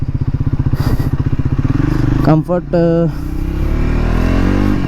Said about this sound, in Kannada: ನಾ first time ride ಮಾಡತ್ತೀನಿ tramp speed 400